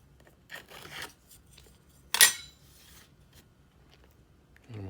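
Scraping sand off a sand-casting setup for a six-prong engagement ring: soft rasping strokes in short bursts, then one sharp, louder scrape midway and a low thump at the end, close by with no talk.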